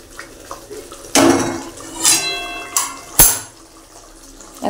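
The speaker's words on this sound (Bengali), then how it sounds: "আস্তে আস্তে আমি সাঁড়াশি দিয়ে কড়াইটাকে ঘুরিয়ে ঘুরিয়ে করবো" Metal tongs clank against a wok while it is turned during the cooking of a Bombay duck (lote fish) curry, with a few sharp scraping knocks spaced over several seconds and no talk.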